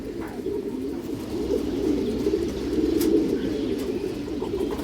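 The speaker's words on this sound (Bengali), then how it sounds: "এগুলো রোড মাস্টার কবুতর দর্শক" Road Master pigeons coo in a steady, low, continuous murmur of overlapping calls that carries through the whole stretch with no talking.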